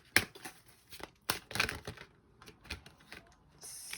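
Close, quick riffle-and-flick sounds come from a fairy oracle card deck being shuffled by hand, with several short papery bursts across a few seconds and no talking.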